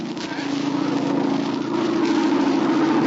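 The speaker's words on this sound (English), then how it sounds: "It's a plane, all right. Must be going to land near here. Sounded mighty low, just above the trees." A low, steady engine drone fills the clip, rising slightly and holding loud throughout, like a propeller plane passing close overhead.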